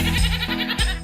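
A goat bleats loudly and close by, two wavering cries separated by a short gap.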